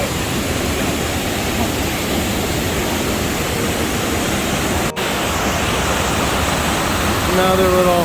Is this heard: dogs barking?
no